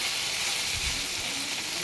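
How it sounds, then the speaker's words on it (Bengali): Food frying in a pan over medium heat in a home kitchen, a soft continuous sizzle and hiss with occasional low knocks of turning, fairly quiet, with no speech. "এবারে উল্টে পাল্টে মিডিয়াম হিটে রেখে এটাকে ভালো করে ভেজে"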